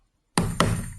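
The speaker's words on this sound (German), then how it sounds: "Und nehme wieder den Nagel und den Hammer und piekst das hier an, schlag das hier an." Two sharp, close hammer taps on a nail set into wood while assembling a cajon drum kit, the second tap coming about a quarter second after the first, each ringing briefly.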